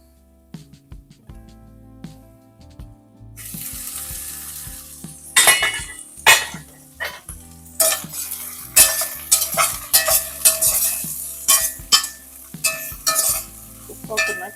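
Jackfruit pieces fry in a pan for biryani with a bright, steady sizzle and repeated loud scrapes and clanks of a spatula stirring, close up. A faint tonal hum runs underneath at the start.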